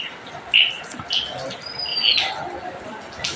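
Small birds chirp in a few sharp, bright calls at the start and middle, close and clear over a quiet household background, with a little faint other noise.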